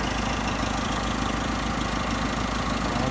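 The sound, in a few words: Deere snowblower mounted on a backhoe, engine running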